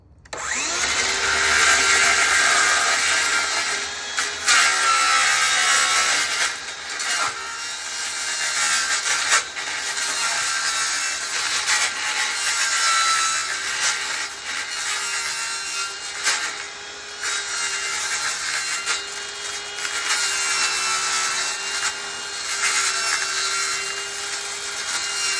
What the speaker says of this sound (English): So let's cut off the bucket.